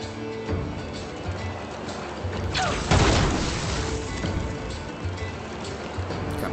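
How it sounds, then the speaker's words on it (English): Explosions in the video game Pillars of Eternity: Deadfire, a dense, loud rumbling blast peaking midway over a continuous wash of battle noise and music, with no speech over it. "people are just exploding left and right now"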